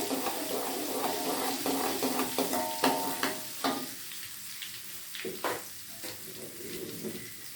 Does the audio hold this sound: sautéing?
yes